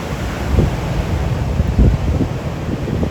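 Ocean waves wash in at Tarague Beach, Guam, under strong gusting wind that buffets the microphone, loud rumbling surf swelling and fading without any talk.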